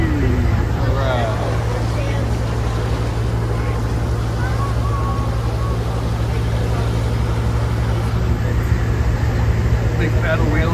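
A big paddle wheel riverboat churns along at Magic Kingdom, a continuous low engine drone with faint watery wash beneath a murmur of crowd chatter.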